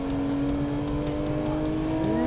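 Honda NSX and Nissan GT-R race cars battle on a track, one trying to pass on the inside: a loud, steady engine drone with tonal whine holding throughout, pitch dipping briefly near the end as a car lifts and changes gear.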